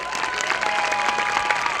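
Audience applause at a community wedding festival and reunion gathering in Surat: dense, steady clapping filling the whole stretch at even loudness, with a faint tonal drone underneath and no clear talking.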